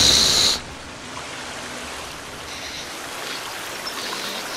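A waterfall in The Forest video game gives a steady broadband rushing noise, continuous and moderately loud, after a brief louder burst of another game sound at the start; no one speaks.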